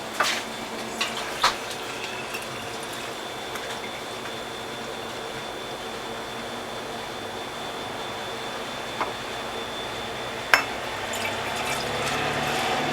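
Juice flows steadily from a juicer's container into 14-ounce bottles, a continuous soft liquid trickle close by with a few light clinks of glass.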